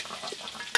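Potatoes frying in a pan give a soft crackling sizzle with light stirring scrapes, ending in a short sharp clatter.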